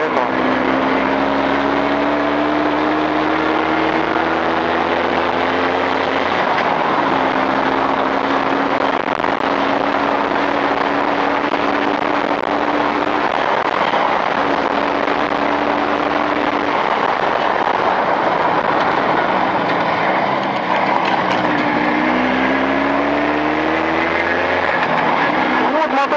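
A motorcycle engine fitted with Chinese cylinders runs steadily through a break-in in 40-degree heat, its droning harmonics rising and falling with the revs. Loud and continuous throughout, with someone talking over it.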